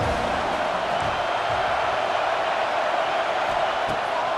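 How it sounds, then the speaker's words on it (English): Stadium crowd noise in a college football video game, Ohio State's home crowd roaring on third down against Michigan State; a steady, broad, continuous roar with no let-up, heard without talk. "the Buckeye crowd alive on 3rd down"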